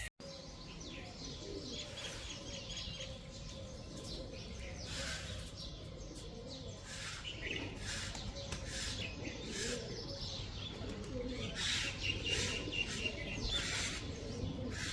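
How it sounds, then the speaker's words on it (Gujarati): Pigeons coo softly and repeatedly at close range at scattered grain in the morning, with scattered chirps from other birds and occasional wing flutters over a quiet outdoor background. "કેટલા બધા કબૂતર છે"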